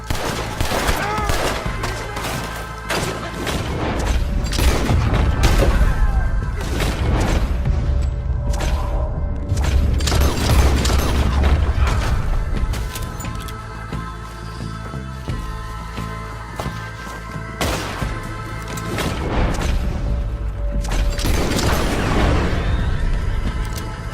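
Rapid bursts of gunfire from a shootout at a moonshine operation in Red Dead Redemption 2, dense volleys and booms rolling almost continuously, loud and close, with game music and effects underneath.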